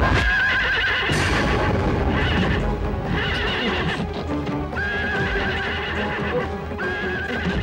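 A horse neighs several times over the steady clip-clop of hooves, with the whinnies loud and near and the hoofbeats rhythmic underneath.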